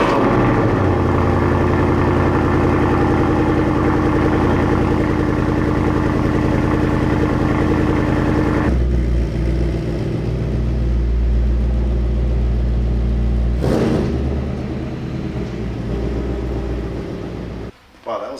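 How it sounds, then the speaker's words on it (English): A Ford Mustang Dark Horse V8 rumbles steadily in its normal exhaust mode, a loud, close, deep drone that lasts several seconds before the tone shifts to a lower idle, then briefly cuts out near the end. "Wow, that was a normal exhaust mode."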